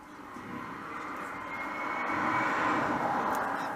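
The Joule electric vehicle prototype PT Panda drives past during a slalom moose test, giving a steady, rising whine much like an aeroplane engine, moderately loud and building toward the end, with no talk.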